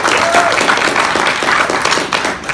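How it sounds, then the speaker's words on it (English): A church congregation applauding during a Sunday service, dense, even clapping that carries straight through the short stretch at a fairly loud level. "so let's give them a round of applause for being here"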